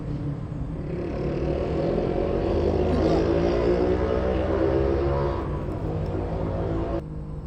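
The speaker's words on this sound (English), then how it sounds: "sorry, it was a motorcycle" A motorcycle engine drones loudly and steadily, swelling as it passes close by, then cuts down abruptly near the end.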